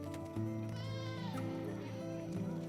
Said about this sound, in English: So you can see how big and how these goats are enjoying.